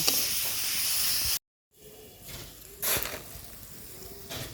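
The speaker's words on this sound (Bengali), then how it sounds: "সিদ্ধ করা কপির ডাঁটা দিয়ে দিলাম। পুরাটা এখন ভালোভাবে ভেজে নেব।" Boiled cauliflower stalks fry in a pan over an earthen clay stove, giving a loud hissing sizzle that cuts out briefly and then returns with bursts of steamy crackle.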